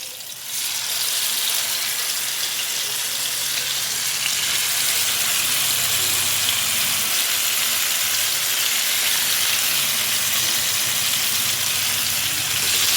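Fish frying in hot oil on a gas stove, giving a steady, loud broadband sizzle that runs continuously without pause and with no talking.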